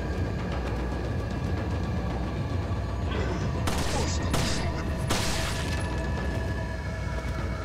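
Several sharp bursts of gunfire in Resident Evil 4 cut through a constant noisy background of game audio, clustered in the middle, each crack loud and brief.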